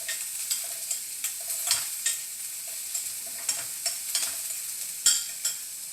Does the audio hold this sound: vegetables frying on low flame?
yes